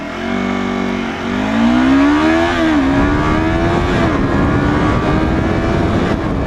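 A 2015 Yamaha R3 motorcycle pulls hard up to highway speed in fourth gear, its engine note climbing steadily and then holding a loud, sustained drone against rushing wind.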